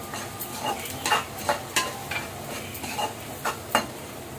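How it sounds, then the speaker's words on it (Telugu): Onions frying in oil for a dried fish and egg curry, with soft sizzling under repeated stirring scrapes and light utensil clinks in a steady rhythm, close by and fairly quiet. "ఇక ఉల్లిపాయలు అయితే బాగా ఫ్రై అయిపోయాయండి."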